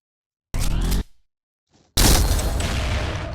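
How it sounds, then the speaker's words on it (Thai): An arm cannon weapon firing in a video game produces two loud, dense bursts of blasting gunfire, a short one followed by a longer sustained barrage after a near-silent gap, with no talking. "เป็นอาร์มแคนนอนนะ แล้วดูคุณเธอยิงนะ"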